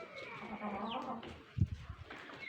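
Chicks and chickens peep and cluck nearby in a busy farmyard, with a soft thump partway through.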